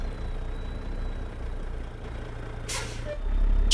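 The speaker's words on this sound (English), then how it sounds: "Love those little air brake sounds." A truck's air brake lets out a sharp hiss near the end over a low idling diesel rumble, in American Truck Simulator while hauling a Volvo excavator on a trailer.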